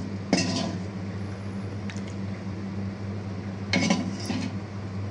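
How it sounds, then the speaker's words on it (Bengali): A spoon stirs fried onion and garlic into lentil dal in a cooking pot, with a few sharp metallic clinks against the pot spaced apart over a low steady kitchen hum. "পেঁয়াজ রসুনটা ভাজা দিয়ে আবার নেড়ে চেড়ে দিতে হবে।"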